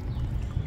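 Water from a sump pump pours into a garden compost bin, a steady low rushing splash that stays close and continuous with a brief surge near the end.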